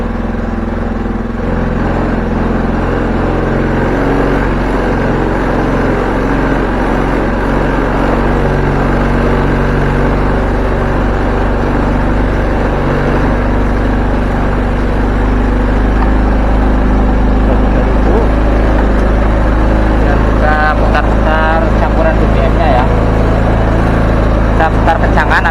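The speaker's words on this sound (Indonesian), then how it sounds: "RPM kita naikkan pakai obeng ini ya, putar ke kanan. Coba kita sampai 3000 dulu." Honda Scoopy carbureted scooter engine running steadily while its idle speed is raised with a screwdriver, a loud continuous buzzing drone that holds throughout, with someone talking over it.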